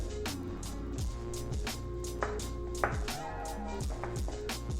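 Stirring chocolate brownie batter for an oven-free chocolate cake, a steady series of clinking, scraping taps of a utensil against the bowl, close and rhythmic over a background hum.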